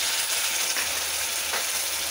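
Ginger and garlic paste frying in a pan with chicken gives a loud, continuous sizzle and hiss, close up, with no talk.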